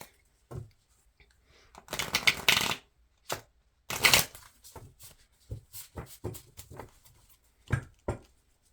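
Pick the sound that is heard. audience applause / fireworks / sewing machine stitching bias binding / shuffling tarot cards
shuffling tarot cards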